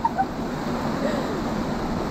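Big storm waves on open sea during rough sailing, a steady broad rush of surf and wind noise filling the clip with a couple of brief louder splashes near the start.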